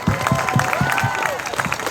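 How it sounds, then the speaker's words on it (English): Crowd at an outdoor vigil for gun violence survivors giving a short round of applause for elected officials, steady clapping with some cheering. "let's have a round of applause for the elected officials who came out"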